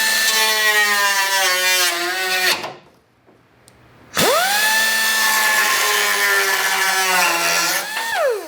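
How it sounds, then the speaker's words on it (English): A cutting wheel slicing a piece off a Corvette C6 widebody panel, a loud high-pitched whine in two long bursts that spin up and wind down, separated by a short pause. "take my cutting wheel and then just cut that little piece out right there"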